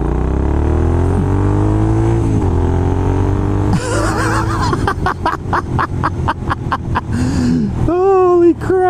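A Triumph Scrambler 900 motorcycle starts up after a low steady hum, catching into a rhythmic, pulsing idle that quickly grows busier and louder nearby.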